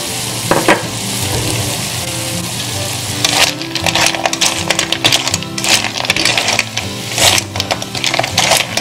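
Sea snails stir-frying in a pan as ginger and chili go in, a steady loud sizzle with bursts of crackling and scraping stir strokes, no talking.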